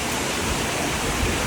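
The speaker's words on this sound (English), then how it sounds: "We made it to the waterfall. Look at that! Napuru Waterfall." Napuru Waterfall near Arusha, Tanzania, pours steadily in a dense, unbroken roar of falling water, loud and close, with no other sounds.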